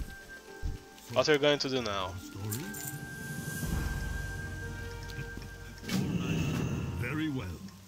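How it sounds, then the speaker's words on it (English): Steady rain falls in the Pandaria region of World of Warcraft, a soft continuous patter under game sounds, while characters talk over it. "Yeah, it rains a lot in Pandaria."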